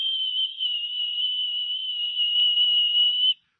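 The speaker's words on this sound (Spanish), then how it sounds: "Un silbo apacible y quieto, y ahí estaba Dios." A gentle, steady whistle tone holds one clear pitch for about three seconds before cutting off, heard alone against silence.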